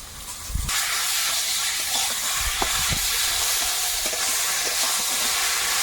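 Spinach goes into a hot pan in a Sundarban kitchen, starting with a loud burst of sizzling that settles into a steady hiss, with a few light clinks and stirring taps beneath.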